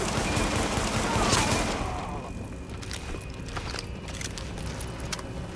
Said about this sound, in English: So, that shooting, that was you, right?